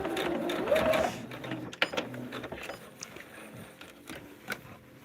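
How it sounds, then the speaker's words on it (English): A sewing machine stitches quilt seams along the solid line of a foundation piece for a blended fan quilt, a brief close mechanical whir in the first second, then fading into quieter handling clicks and rustles. "Sewing on that solid line that's on the foundation piece is the best way to do your seams"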